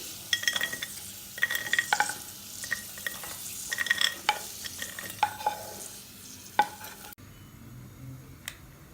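Ingredients fry and get stirred in a pan for a Telugu chakkara pongali sweet: sizzling broken by repeated scraping and clinking strokes of a spoon against the pan, close and fairly loud, ending in quieter sizzle.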